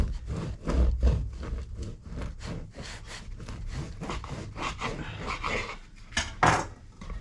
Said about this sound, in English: I'm going to cut it right into the middle.